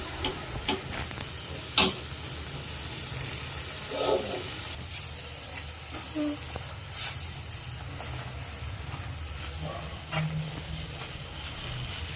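Totapuri mango jam with sugar bubbles and hisses softly in a pan over a medium flame, a low continuous simmer broken by scattered pops and stirring clicks nearby.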